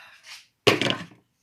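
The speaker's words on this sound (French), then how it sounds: "Après, je vais fermer mon robot." A Thermomix-style food processor lid shutting over a nutmeg squash velouté, one firm plastic thunk with a short rattle, close and distinct after a faint shuffle.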